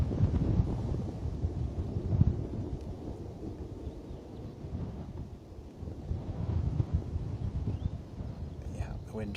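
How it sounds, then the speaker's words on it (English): Strong wind buffets the microphone at Bristol Airport, a continuous low, rumbling roar that swells and eases with gusts and dominates the scene. "the wind playing absolute havoc, I'm afraid"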